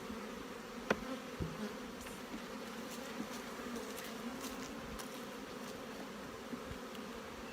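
Honey bees hum in a spring apiary during brood nest management, a soft, continuous buzzing swarm at a distance with a few louder individual passes and faint clicks, no voices.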